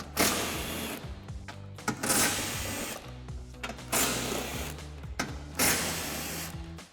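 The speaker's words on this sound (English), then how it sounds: "we're going to remove these 4 bolts using our 13mm socket" A power tool driving out bolts with a 13mm socket on a Jeep Gladiator JT, a series of close whirring bursts of about a second each with brief pauses between them.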